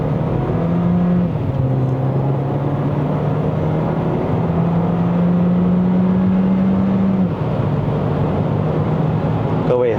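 A 2025 Proton X50 1.5-litre turbo accelerating through gear shifts, heard from inside: a steady loud engine drone whose pitch climbs, drops at each upshift, then climbs again.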